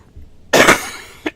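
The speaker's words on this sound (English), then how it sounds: "I still have a little bit of this cough" A single harsh cough from an adult, loud and close, with a short throat-clearing rasp just after it in an otherwise quiet room.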